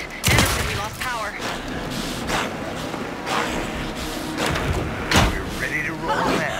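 Gunfire from the Alan Wake 2 final boss fight: several sharp, booming shots scattered irregularly through dense, rumbling game ambience, a couple of them striking loud and close.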